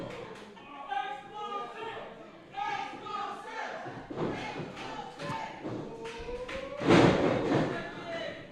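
Wrestler hit with a side slam onto the ring mat at a live independent wrestling show, heavy thuds amid a reacting crowd, under excited commentary speech.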